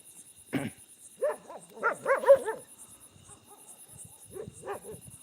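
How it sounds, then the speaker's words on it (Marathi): Several dogs bark back and forth at a distance outdoors, with a few short bursts of yips and woofs clustered in the middle and again near the end, over faint background hiss. "तिकडं समोरचे कुत्रे बुकत आहेत त्यांच्यावर त्यांच्याबरोबर ते पण बुकायला पाहतात"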